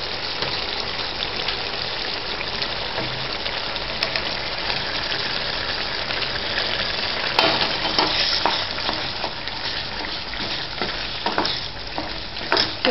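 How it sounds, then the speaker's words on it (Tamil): A spoon stirs jaggery into cooked raw mango pachadi in a pan, giving a steady bubbling sizzle with scraping clatters. The sound is close and continuous, with no talking. "கிண்டி விட்டு இந்த வெள்ளமும் கொஞ்சம் கரையணும்"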